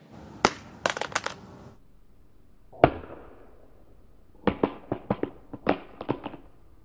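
An Amazon Fire Phone with a rubbery edge dropped on its side from shoulder height, a sharp clatter as it strikes a hard floor followed by a quick burst of smaller bouncing and rattling taps, close and without talk.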